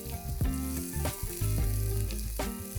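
Chopped onion sizzles steadily in a hot pan alongside eggplant for a brinjal dish, with a few stirring scrapes breaking the close frying hiss and no talking.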